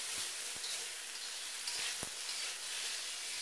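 Beef and broccoli sizzle steadily in a hot wok during a stir-fry, a loud, continuous hiss with a few soft low knocks from the pan underneath.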